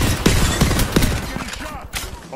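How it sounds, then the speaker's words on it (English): Gunfire from the shooter video game Apex Legends, a quick fusillade of sharp shots in close succession, with a player's voice talking over it. "One shooting from behind me."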